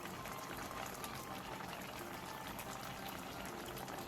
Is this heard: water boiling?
yes